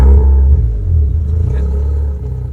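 Modified 400 hp Mazda RX-7 FD3S imported from Japan, its rotary engine giving a deep loud rumble close inside the car, strongest at the start then settling to a lumpy idle, with no talking.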